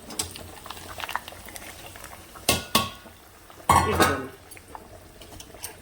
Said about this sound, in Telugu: ఇప్పుడు ఈ తాలింపుని పులుపులో పోసేసుకుందామండి